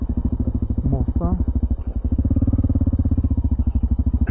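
Motorcycle engines idle with a loud, steady, rapid throb on the Rusaliyski mountain pass in Bulgaria, lasting throughout while people talk over them.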